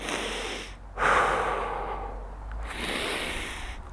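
A deep breath is drawn in through the nose during a 90-90 hip mobility drill: a close, airy inhale with a snorting edge, then a quieter rushing exhale.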